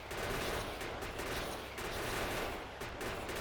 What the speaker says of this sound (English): we'll have a real good time shooting small biters